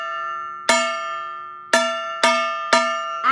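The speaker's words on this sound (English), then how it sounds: "we have to get my wooden spoon and my metal pan" Four sharp strikes of a wooden spoon on a metal pan, bright and ringing, each decaying slowly with a bell-like tone; unevenly spaced taps with no talking.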